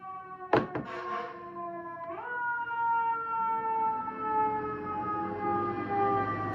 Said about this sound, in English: We're just gonna let the ambulance pass.